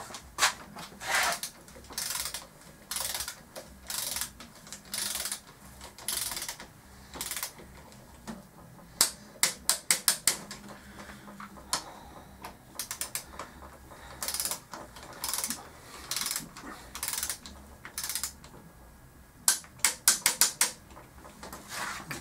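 A torque wrench tightens the headstock bearing bolts on a Kawasaki ZZR600 motorcycle: close, sharp ratcheting clicks in repeated bursts, some rapid runs, spread over about twenty seconds with no speech.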